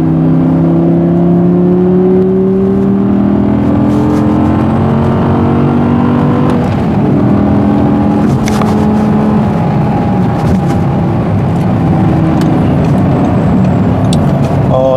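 Audi R8 V10 sports car on a driving test, its engine revving loud and close with rising and falling pitch sweeps as it accelerates, mixed with heavy road and wind rush.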